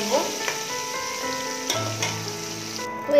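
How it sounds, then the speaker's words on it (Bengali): Prawns fried crisp with only salt in a pan for shrimp fried rice, a steady close sizzle with occasional stirring clinks and scrapes, no talk. "তো এখানে আমি চিংড়ি মাছটা একেবারে একটু কড়া করে ভেজে নিচ্ছি।"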